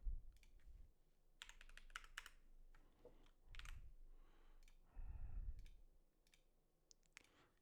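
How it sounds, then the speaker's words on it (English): Computer keyboard keys are tapped in quick short bursts with pauses between, crisp clicks close to the mic over quiet background thumps, no voices. "I'm just using the keyboard shortcuts"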